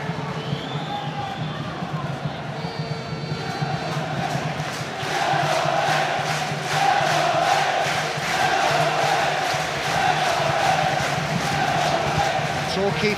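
Torquay United fans in the stadium at the playoff final against Hartlepool United, cheering and chanting with rhythmic clapping that builds louder partway through, a dense crowd roar with a commentator talking over it.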